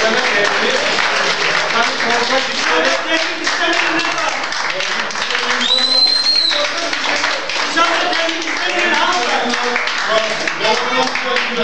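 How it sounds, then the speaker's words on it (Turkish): Women clapping in protest outside a village coffeehouse during an official's presentation on a planned thermal power plant, sustained crowd clapping with overlapping voices and chatter throughout. "kahvehane dışında toplanan kadınlar protesto alkışı yaparak yetkinin konuşmasına izin vermemişlerdi"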